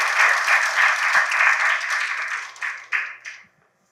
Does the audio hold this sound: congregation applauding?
yes